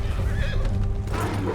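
A horse in Red Dead Redemption 2 lets out a loud, close whinny that rises and wavers for about a second, followed by some shuffling hoof noise and no speech.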